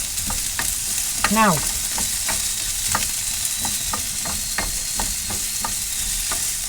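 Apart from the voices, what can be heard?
food frying in a pan for corned beef hash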